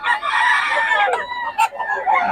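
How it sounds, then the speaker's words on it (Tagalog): A gamecock at a cockfighting venue clucks and crows loudly up close, its calls running continuously over someone talking. "Ganda ng manok ni Boss Tony"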